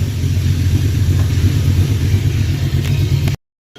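A 1983 Oldsmobile Cutlass T-top on its first drive in two and a half years rumbles steadily as it drives around the block, a loud, close, low engine drone that cuts off abruptly near the end.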